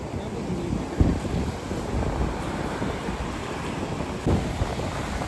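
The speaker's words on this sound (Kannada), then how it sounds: "ವೇವ್ಸ್, ಅಲೆಗಳು ಹೇಗೆ ಅಪ್ಪಳಿಸ್ತಾ ಇವೆ ನೋಡಿ ದಡಕ್ಕೆ" Rough sea waves crash continuously against the rocky shore of St Mary's Island, a dense steady roar with a couple of heavier surges and gusty wind buffeting the microphone.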